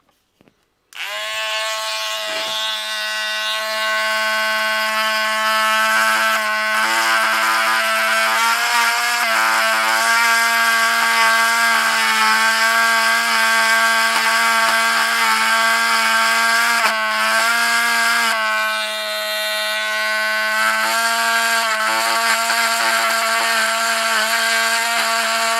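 A power tool trims the edges of a mod part, running at a steady whine with strong harmonic overtones, loud and continuous for about 25 seconds with brief dips in pitch, and no talking.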